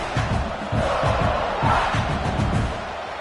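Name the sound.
stadium crowd roaring at a football game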